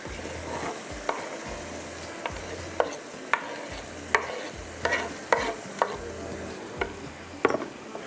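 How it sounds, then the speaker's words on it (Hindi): Tomato and yogurt masala fries over high heat, a steady low sizzle broken by repeated sharp scrapes and clinks of a spoon stirring the pan. "अब इसको आपने तेज़ आग पर भूनना है।"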